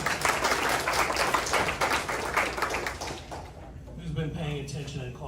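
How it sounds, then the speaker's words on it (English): An audience at a startup presentation event claps together, a dense, steady patter of hands filling the room before thinning out toward the end. "Round of applause"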